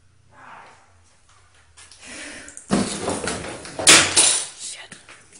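A back door swings open and shuts, with a sharp clunk and rattling bursts in the second half amid shuffling and muffled voices.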